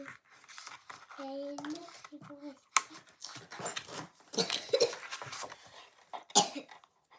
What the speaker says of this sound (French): Ma petite puce, elle tousse.